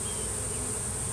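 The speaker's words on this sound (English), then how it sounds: "these were our bees that came out of a hive" A swarm of honeybees that has left a hive buzzes, a dense, continuous, steady drone close by with no voices over it.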